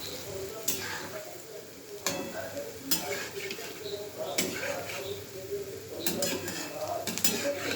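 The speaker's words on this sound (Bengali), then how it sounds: "এবার এখন ভাজছি" Palm fritters (tal puruli) frying in a pan give a steady close sizzle, broken by repeated sharp clinks and scrapes of a utensil against the pan.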